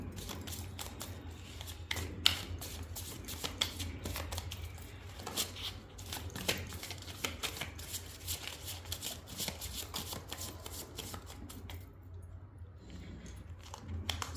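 Soft, continuous riffling and flicking of tarot cards being shuffled close by, with rapid papery clicks over a low background hum.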